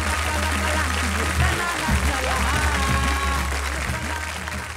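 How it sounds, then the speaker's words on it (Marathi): Loud, sustained applause from an audience at a Marathi kirtan competition stage show, dense clapping running steadily throughout with music or voices mixed underneath. "जोरदार टाळ्या."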